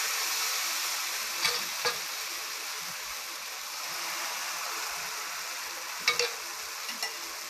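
Ragi dosa sizzles steadily in oil on a hot pan, a continuous close crackling hiss with a few brief clinks of a utensil against the pan.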